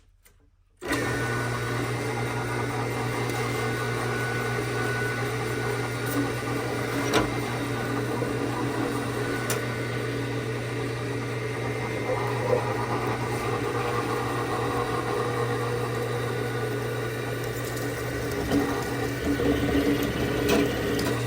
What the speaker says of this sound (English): to drill out the holes first